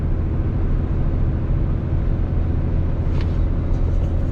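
A truck towing an enclosed car trailer cruises down a road, giving a steady, loud, unbroken rumble of engine and tire noise that stays even throughout with no talking.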